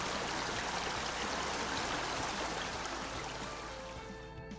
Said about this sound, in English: There is a distant sound of bubbling water.